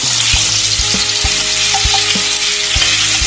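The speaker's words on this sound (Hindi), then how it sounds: "अब फ्रेंड्स इसमें हम डालेंगे कद्दू जो हमने काटे थे छोटे छोटे पीसेस में" Pumpkin pieces tipped into hot oil with browned garlic give a loud, steady sizzle, broken by the clack of a spoon against the pan. No one talks.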